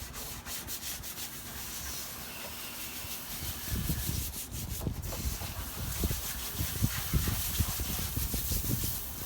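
A rag rubs over a car's surface during detailing, soft continuous swishing strokes that grow louder and more rhythmic in the second half, close by, with no talk.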